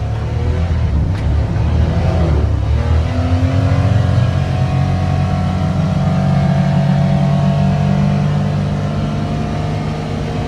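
A Polaris Ranger 1500 Northstar side-by-side drives around with a loud, steady engine drone and rumble that rises in pitch as it accelerates, continuous and close throughout.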